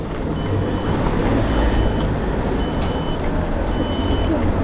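Turn-signal beeper on an SR1 electric motorbike, faint repeated beeps pulsing steadily under loud wind and road rush while riding.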